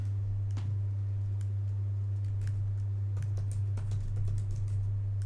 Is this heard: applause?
no